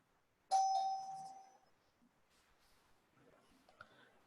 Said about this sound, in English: And there is a doorbell.